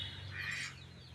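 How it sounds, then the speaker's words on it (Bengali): Backyard ducks calling in the afternoon, a short burst of squawking quacks at middle distance over a low steady hum. "আমার হাঁসগুলো পিছনে ডাকাডাকি করতেছে"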